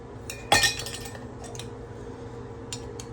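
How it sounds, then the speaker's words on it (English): Metal jar lids clink sharply against the bottom of a cooking pot, one bright metallic clatter followed by a few fainter taps, close up and with no talking. "So what I do is I take these jar lids and I lay them across the bottom."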